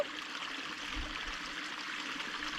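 A shallow, reduced creek trickles steadily nearby, a soft continuous wash of running water with no other sounds.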